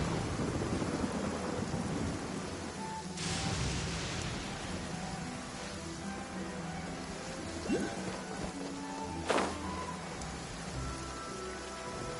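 Rain falls in a steady, full hiss during a thunderstorm in the video game Genshin Impact, with rumbles of thunder and a couple of sharper cracks rising above the downpour, no voices.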